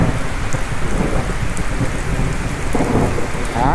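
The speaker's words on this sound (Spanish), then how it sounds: "está lloviendo full. Ya se escuchan relámpagos y todo eso." Heavy rain pours outdoors under a tree, loud and steady, while low rolls of thunder rumble through it and a sharper crack comes near the end.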